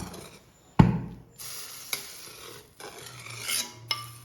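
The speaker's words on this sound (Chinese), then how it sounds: "煮开之后，我们用筷子快速的将其划散" Chopsticks stir West Lake beef soup in a pot, making a few scattered knocks and scrapes against the pot over a soft simmering hiss, quiet and close.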